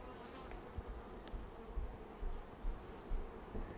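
Honey bees buzz inside a hive in a low, continuous hum that swells and dips slightly, close and fairly quiet, with no voices.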